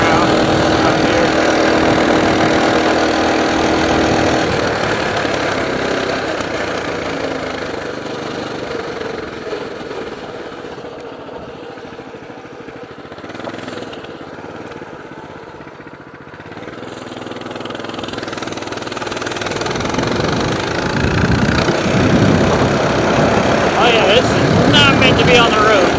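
A Coleman mini bike's small engine runs loud and close, holding a steady droning roar that dips slightly mid-ride before climbing back up to full revs.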